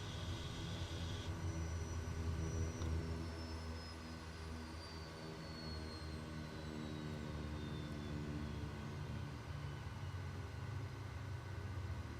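Steady aircraft engine drone from Microsoft Flight Simulator 2020, a continuous loud roar with a faint high whine gliding slowly downward, no talk over it.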